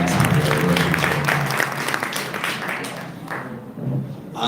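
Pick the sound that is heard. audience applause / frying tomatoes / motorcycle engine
audience applause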